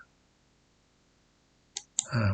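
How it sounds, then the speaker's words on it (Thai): A computer mouse clicks twice in quick succession, sharp and close, while text is being formatted in Google Sheets. A brief rustle of noise follows the clicks. "ลองลองคลิกดูนะครับนะ"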